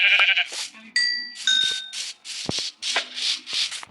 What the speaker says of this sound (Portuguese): Primeira ovelha, né?